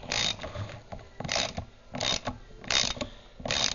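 A ratchet with a 13mm socket tightens a bolt on a Tecumseh carburetor, giving short bursts of rapid clicking that repeat at a steady rhythm, close and fairly loud with no talking.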